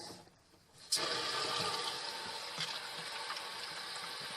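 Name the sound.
water refilling home water filter after valve turned on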